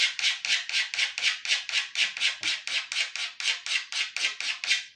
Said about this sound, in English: I'm scraping with this penny.